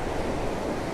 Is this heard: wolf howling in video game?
no